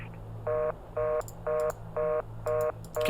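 Touch-tone telephone keypad beeps in a video game, six evenly spaced dialing tones about half a second apart, clear and close over a low background hum, with no talking.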